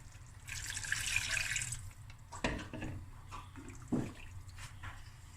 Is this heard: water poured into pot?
yes